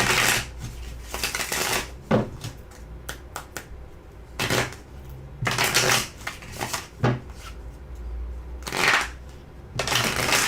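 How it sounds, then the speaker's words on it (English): Cards are shuffled close up in repeated riffling bursts, each a few seconds long, with brief pauses between them. "Let's shuffle it one more time."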